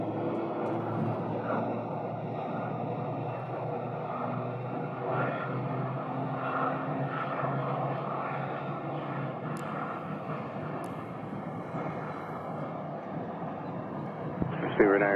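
Jet airliners taxiing on a taxiway at Phoenix Sky Harbor Airport give a steady, broad engine rumble and whine that holds throughout at moderate distance, with a slight swell near the end.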